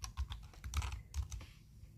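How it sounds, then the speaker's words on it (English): Keys clack on a computer keyboard in a short, uneven burst of typing. The taps are close and clear, with a few louder strokes among them. "And then I'm going to type my name right here."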